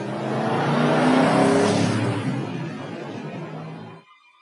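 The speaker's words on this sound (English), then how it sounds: "A car beeped as it raced past exactly where I would have run to" In an animated scary story, a car races past as a loud swelling whoosh that peaks and fades before cutting off abruptly.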